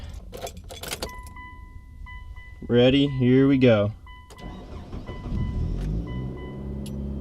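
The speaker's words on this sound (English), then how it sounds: "I'll give you guys like a startup of what my car sounds like." A 2002 Mitsubishi Lancer starts up in a hot enclosed space: keys jingle, a door chime beeps, the starter grinds briefly and the engine catches into a low, somewhat rough idle, with a person speaking briefly beforehand.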